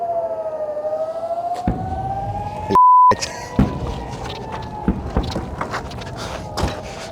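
An air raid siren wails steadily in the background near Gaza while nearby clatters and knocks punctuate it, interrupted briefly by a sharp electronic beep.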